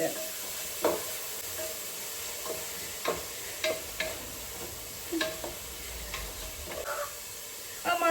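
Onions being stirred and fried in a pan for chicken biryani, with a low background sizzle broken by intermittent scraping knocks of the spoon against the pan, close by and without talk.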